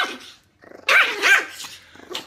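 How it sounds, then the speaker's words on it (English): A pet dog barks and growls close by in short bursts, with sharp loud barks alone and no talk. "I come home and I pet my dog."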